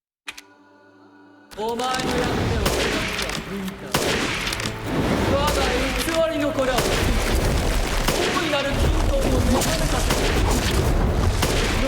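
Repeated gunshots aimed at Mother Miranda's dress during her boss fight in Resident Evil Village, loud cracks in quick succession over booming game noise, with someone talking throughout.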